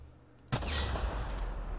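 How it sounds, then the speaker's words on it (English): Explosion in the video game The Outer Worlds: after a moment of quiet, one sudden loud blast hits and then rolls into a sustained, rumbling roar that carries on to the end. "I always say that when I go through an explosion"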